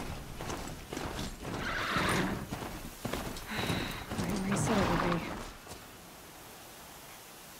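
A horse in the video game Horizon Zero Dawn neighs and gallops with clip-clop hoofbeats, moderately loud, before it fades to a quiet background.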